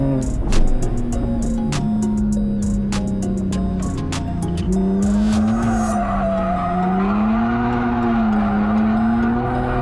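A street car drifts around a track with continuous tire squeal. Its engine note rises and falls under the squeal, and sharp skid bursts come early on. Everything is loud and close.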